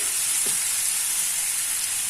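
Mushrooms hit a hot pan of tomatoes for a mushroom and gooseberry omelette, giving a loud, steady sizzle and frying hiss that runs unbroken, with no voices.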